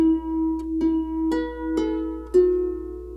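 A harp plucks the opening notes of a jig in a short run of clear, ringing notes at a moderate pace, each one sustaining into the next, with no voices.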